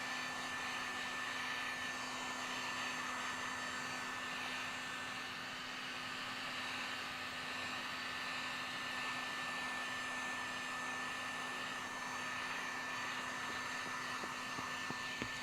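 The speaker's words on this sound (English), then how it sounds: "You do the work with a heat gun, and you direct things with the card." Heat gun blowing a constant, even airy roar while shrinking window tint film on a Chrysler 300 windshield, a steady close hum throughout with no pauses or voices.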